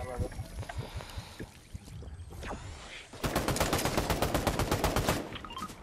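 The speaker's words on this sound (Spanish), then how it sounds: "Es un buen disparo, pero no sé de dónde." Gunfire in the video game Fortnite, scattered shots followed by a long rapid automatic burst, loud and close, with game sounds and some voices in the background.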